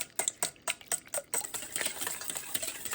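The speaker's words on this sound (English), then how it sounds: "We're going to beat this until it is frothy" A whisk beats egg whites and salt in a bowl for angel food cake, giving quiet, quick scraping strokes that start as separate taps and merge into a steady frothy swish.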